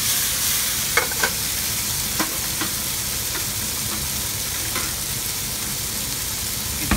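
Constant loud sizzling of flank steak stir frying in a hot wok, with occasional clanks of a utensil stirring and tossing the food.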